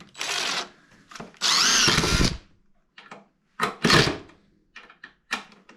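Power drill driving screws into a bandsaw bench built from construction lumber, several short whirring bursts with pauses between them, close and fairly loud, plus some clunks of handling.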